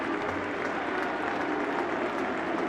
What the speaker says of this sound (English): Applause around the ground